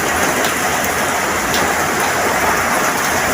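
Heavy rain pours down in a dense, steady hiss that stays constant and close throughout, with no voices over it.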